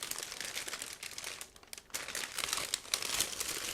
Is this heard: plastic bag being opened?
yes